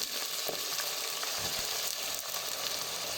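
Chopped green onions fry in hot oil over a medium flame, added after ginger-garlic paste for sarson ka saag, giving a steady, close, dense sizzle with faint crackles and occasional stirring scrapes, no voices.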